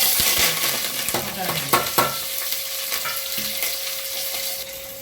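Fennel seeds, sambar shallots and curry leaves hit hot oil in a pan for a duck gravy, bursting into a loud crackle with a few stirring clinks, then settling into a steadier sizzle.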